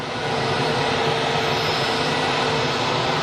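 An easyJet Switzerland airliner at Geneva Airport produces a loud, steady jet engine roar, a continuous broadband rush heard alone without any talk.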